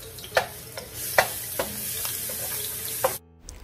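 Minced garlic sizzles in hot annatto oil in a pan while cooking Bún Bò Huế. A steady loud frying hiss runs under a few sharp stirring clicks, then cuts off abruptly near the end.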